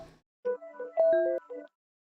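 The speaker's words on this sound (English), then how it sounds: "Sorry, I got a phone call." An incoming call sets off a phone ringtone: a short melodic run of bright electronic tones in a quick stepped pattern, fairly clear and heard alone with no talking.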